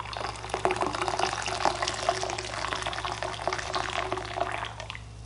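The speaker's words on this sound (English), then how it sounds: "It's a disembodied hand pouring your water." Water pours into a crock pot in a steady, fairly close trickling stream with small splashes, running continuously over a low hum.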